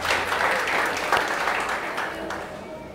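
A church congregation claps steadily, a dense wash of many hands applauding together, fairly loud and sustained throughout with no talking.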